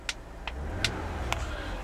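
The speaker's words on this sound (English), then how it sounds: "Keep an eye on the tachometer. I'm gonna rev the engine." A 2010 Toyota Venza's engine runs with a steady low hum, broken by a few short, sharp bursts as it is revved, recorded up close and without anyone speaking.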